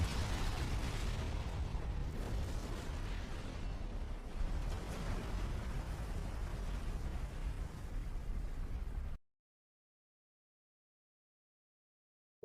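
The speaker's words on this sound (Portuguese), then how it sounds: "o vagão separado junto com William Burke acaba sendo completamente consumido pela explosão do complexo subterrâneo" A sustained, rumbling explosion as the underground complex is destroyed in a Resident Evil video game, a dense low roar with crackling debris for about nine seconds before cutting to silence.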